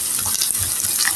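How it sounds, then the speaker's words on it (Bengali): Onions frying in oil in a pan for a pigeon meat curry, giving a steady close hiss of sizzling with faint stirring scrapes, and no voice. "এখন আমি ভালো করে পেঁয়াজটি ভেজে নিব।"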